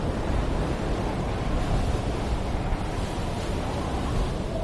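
Ocean waves roll steadily in Call of Duty: Mobile, a loud, constant surf wash with wind noise and no distinct breaks, heard alone.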